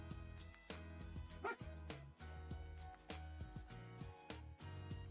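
Several dogs bark and yip in quick, uneven bursts under steady background music, moderately loud and close throughout.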